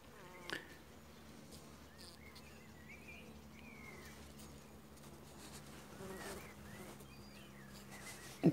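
Honey bees hum inside a weak hive short of pollen and nectar after twelve days of rain, with pupae about to emerge; a faint, steady low drone runs throughout, with a few soft knocks.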